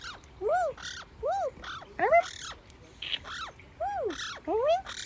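A pet bird squawks in short, harsh bursts, close and fairly loud, alternating with a person's rising-and-falling whooping calls that imitate it.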